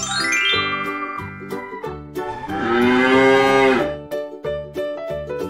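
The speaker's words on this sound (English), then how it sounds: "Cow." A cartoon cow gives one long, loud, tonal moo in the middle of the clip, set against steady jingly children's music that plays before and after.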